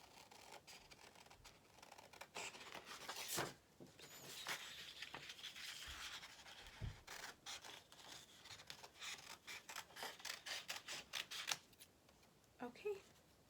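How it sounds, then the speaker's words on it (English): Scissors snipping through yellow construction paper to cut out a rectangle for a paper plate pirate boat craft, a run of quick, close crisp snips with some rustling of paper between them. "now I'm going to cut."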